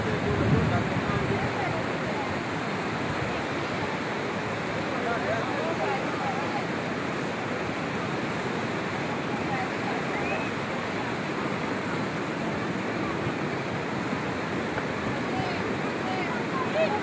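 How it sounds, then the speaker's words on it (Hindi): Fast-flowing Neelum river water rushing below Kohala bridge at the Azad Kashmir border, a steady broadband roar that stays constant throughout, with faint wind. "इंतहाई तेज़ रफ्तार में ये पानी है"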